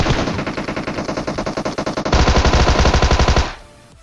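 Tommy gun firing full-auto in PUBG on Erangel, a loud, rapid, evenly spaced string of shots that grows heavier and more intense partway through, then cuts off abruptly into quiet.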